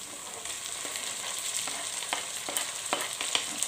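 Tomatoes hit a hot frying pan for a sardines-and-egg dish, giving a steady, close sizzle with a few scattered crackles and light stirring clicks throughout, no voices.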